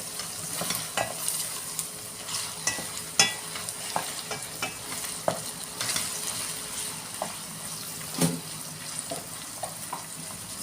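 Dried tomatoes frying in a pan for rice pilaf, a continuous soft sizzle punctuated by scraping and clinking stirs at irregular intervals, close and without talk.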